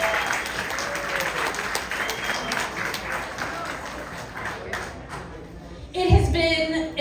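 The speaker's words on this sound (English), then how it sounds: "They all deserve a round of applause for bringing us together tonight." Audience applause at a New York State Senate candidates' debate: a sustained wash of clapping from a crowd that thins and fades, then a voice starts speaking near the end.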